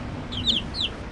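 Two short, high chirps from a chick in the I Spy Treasure Hunt video game, set against a low background hum, with a brief sharp click at the end.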